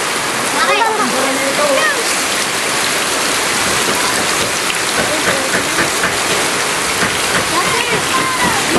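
Floodwater rushes loudly and continuously across a flooded area, a dense broadband roar that stays steady throughout, with voices talking faintly over it.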